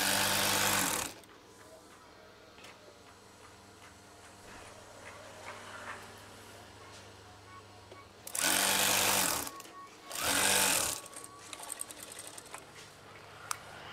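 A sewing machine stitches folded curtain fabric in three loud bursts: a short one at the start and two more about a second apart later, with quiet pauses and faint handling noises between them.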